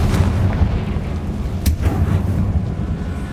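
A Confringo spell explodes in the game Hogwarts Legacy, a dense, booming rumble that stays heavy and continuous throughout, with one sharp crack cutting through midway.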